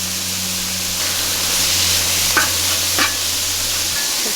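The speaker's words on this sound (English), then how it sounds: "this is lean ground beef. Okay, and I'm adding about a tablespoon of the taco seasoning while it's cooking." Lean ground beef with taco seasoning sizzles loudly and steadily on a Skottle, a broad hiss with a couple of stirring scrapes near the end, no voices.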